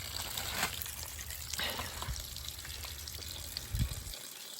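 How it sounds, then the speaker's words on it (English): Water drains out of a garden irrigation pipe running from a house in a Colorado yard, a soft, steady trickle and splash with a couple of louder gurgles near the end before it stops. "So that's the water coming out of the pipe out of the house."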